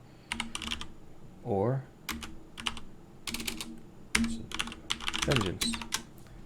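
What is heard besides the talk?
typing on a computer keyboard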